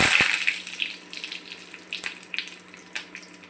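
Cumin seeds and curry leaves dropped into hot oil already holding mustard seeds, a loud burst of crackling sizzle at first that settles into a lighter, spitting fry with scattered pops.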